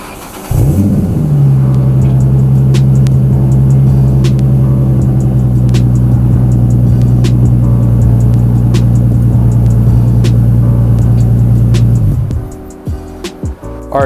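A 2005-09 Ford Mustang engine idles steadily for several seconds, a deep, even rumble close by, then cuts out near the end.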